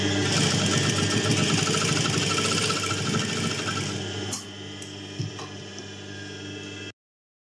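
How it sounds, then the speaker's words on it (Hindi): Sewing machine stitching a collar strip, a steady rapid mechanical whir and rasp for about four seconds, then quieter clicks and a brief knock before stopping. "यहां पे हम सिलाई लगा लेंगे"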